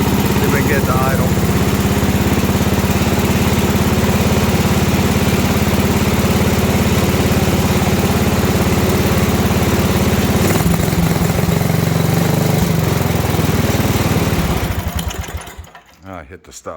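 Wheel Horse RJ58 garden tractor engine idling loud and steady up close, then cutting out and winding down to silence near the end.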